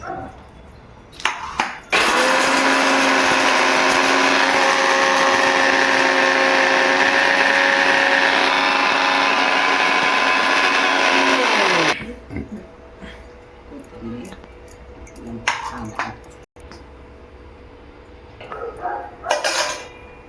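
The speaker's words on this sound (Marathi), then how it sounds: "आता हे सगळं आपल्याला वाटून घ्यायचं. खोबरं वाटून, खोबरं, आलं बारीक, कांदा." A mixer grinder whirs loudly and steadily for about ten seconds, grinding coconut, ginger, onion, garlic and coriander for a spicy egg curry, then cuts out. A voice talks briefly before and after over clinks of kitchen utensils.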